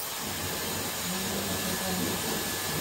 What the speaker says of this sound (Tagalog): Ang lakas ng blower mo.